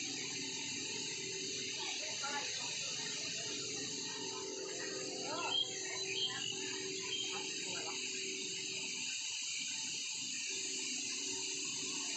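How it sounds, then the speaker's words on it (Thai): Steady broadband rush of a waterfall at the Phra That Na Dun area in Maha Sarakham, Thailand, flowing continuously and fairly close, with someone talking faintly over it. "โอ้โหน้ำตกนะครับ"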